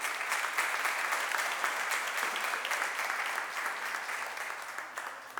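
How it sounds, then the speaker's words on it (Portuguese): A church congregation applauds during a sermon, dense sustained clapping from many hands filling the room at an even level before tapering slightly at the end. "pode aplaudir Jesus"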